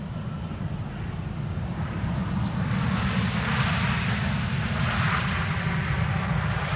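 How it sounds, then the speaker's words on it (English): An Airbus A321neo jet on approach to land on the Polderbaan at Schiphol produces a steady, broad roar that swells slightly midway and holds at a moderate distance, with some wind noise. "A321neo arriving from Paris-Charles de Gaulle, flying right left of me, going downwind, coming in to land on Polderbaan"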